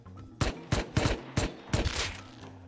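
Close, sharp gunshots ring out in the survival game Rust as a player goes for a headshot from a gas station roof, five or six quick cracks in an uneven burst with a low hum between them.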